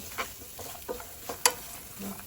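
Coconut pieces frying in ghee in a pan, a steady light sizzle broken by the clatter of intermittent stirring strokes, close and moderately loud with no talking.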